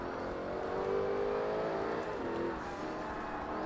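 A high-horsepower race car engine in Forza Motorsport, a steady loud drone of revving with harmonic whine that rises and shifts pitch through gear changes, continuous throughout.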